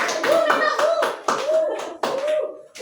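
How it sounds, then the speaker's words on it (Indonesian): Clapping in a small group, probably children, as a girl is called up to recite a poem: several sharp, rhythmic bursts of hand claps close by, mixed with voices and excited chatter. "Tepuk tangan, tepuk tangan."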